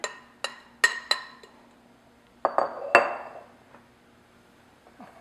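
An Oreo cookie crumb and butter mixture is tipped into a pie pan for a peanut butter pie, giving a string of sharp clinks and knocks against the dish, loud and close, with softer scraping between the hits and no talking.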